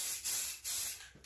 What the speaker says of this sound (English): It already seems like it's spraying better than the Plasti-Dip was